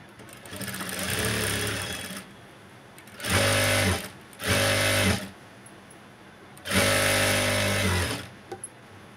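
A sewing machine stitching a Punjabi dress top, running in four distinct bursts of steady, droning motor whir separated by quiet pauses, close and fairly loud.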